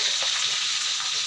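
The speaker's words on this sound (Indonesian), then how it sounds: "Masak atau goreng ikan gurami" Gourami fish frying in hot oil, a steady, close, bright sizzle and crackle that holds at an even level throughout.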